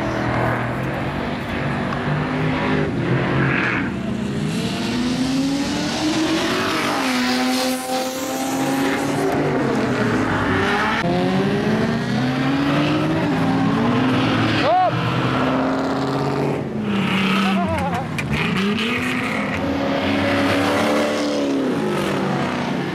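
A Nissan Z32 drifts sideways at a car meet, its engine roaring loudly and rising and falling in pitch as it slides past, with tire squeal and crowd chatter running underneath throughout.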